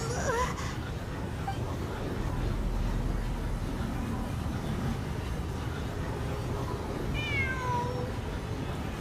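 A cat meows in Genshin Impact, with a short cry near the start and a clearer, longer meow toward the end over a steady low game ambience.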